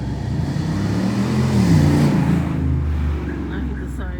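A Camaro's engine rumbles low and fairly loud, swelling briefly before easing off, with a person talking over it.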